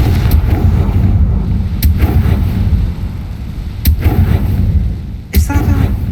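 A Confringo blasting curse goes off in Hogwarts Legacy, a sharp explosive burst, with a few similar bangs spaced across the moment over a steady rumbling game background.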